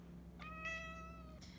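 A pet cat gives one drawn-out, fairly loud meow up close, lasting about a second in a quiet room.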